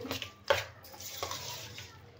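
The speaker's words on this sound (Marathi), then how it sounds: "आपण हे डाळ छान गुळामध्ये घाटून घेऊया" Cooked dal being stirred into melted jaggery in a pot, soft scraping and wet stirring sounds with a sharp clink of the spoon against the pot, close and fairly quiet.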